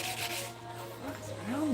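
A surface is smoothed by hand with 320-grit sandpaper to take out scratches: a brief, faint rubbing of a few back-and-forth strokes, close by and quiet.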